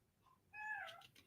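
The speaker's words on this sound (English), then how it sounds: "can y'all hear my kitten meowing?" A single high, rising kitten meow, near and fairly clear, lasting under a second over a quiet room background.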